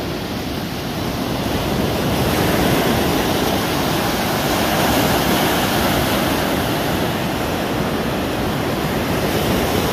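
Rough water breaks and rushes steadily for ten seconds, loud and close, a dense unbroken roar with wind buffeting the microphone and no voices.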